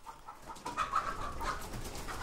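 Free-range hens in a henhouse of about 600 birds cluck and murmur at moderate distance, a soft continuous chatter of overlapping calls with no voices.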